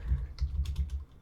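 Quick, soft keystrokes tap on a computer keyboard in a short burst of typing, close and faint with no voice over it.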